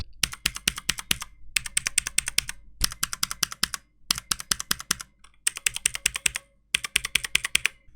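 Fast, clicky typing on a cheap mechanical keyboard close up, in six quick bursts separated by brief pauses, each keystroke sharp and clacking with a clanking, sheet-metal-like ring.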